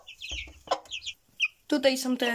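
Young roosters and hens on a farmyard cluck in short, close bursts, one louder hoarse call near the end, with someone briefly speaking between them.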